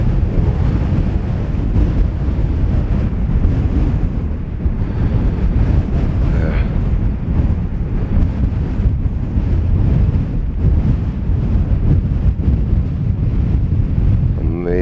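Strong wind buffets the microphone on a hillside above the String on the Isle of Arran, a loud, constant rumbling roar lasting the whole stretch, with voices faintly under it.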